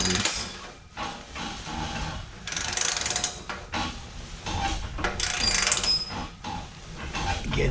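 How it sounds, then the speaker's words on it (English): A torque wrench tightening bolts on a radiant tube heater in a shop gives repeated ratcheting clicks and metallic mechanism sounds in short bursts, close by and fairly loud. "got to have this torque wrench to be able to complete this task in this project here"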